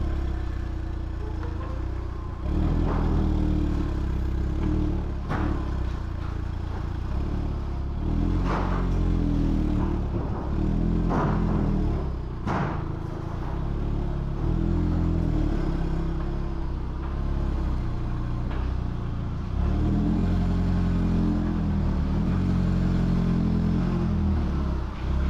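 A 2002 Audi TT with a manual gearbox drives along, its engine droning low and steady with repeated swells of revving and dips between gear changes, plus occasional clatter from inside the cabin.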